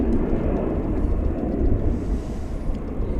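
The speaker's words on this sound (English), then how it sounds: "Surprising sometimes how much noise some of these smaller planes make." A small airplane's engine roars steadily at an airport, a dense, loud, continuous drone with low rumble, unbroken for the whole span and no voices.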